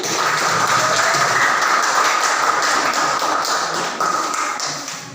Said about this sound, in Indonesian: beri tepuk tangan untuk kelompok ini